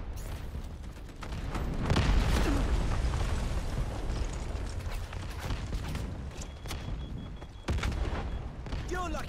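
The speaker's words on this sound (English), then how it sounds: "Artillery ready for barrage." Artillery barrage explosions in Delta Force: Hawk Ops, a dense run of booming, rumbling blasts that swells and then carries on under voices and radio chatter, with a sharper burst near the end.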